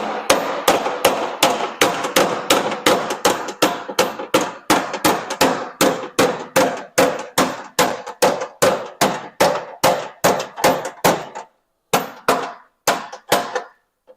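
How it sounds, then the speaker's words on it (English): A bent bolt being hammered out with a hammer: a long, steady series of loud, sharp metallic blows at a quick even rhythm, slowing into a few spaced strikes after a short pause near the end. "Now maybe we can hammer some of that out."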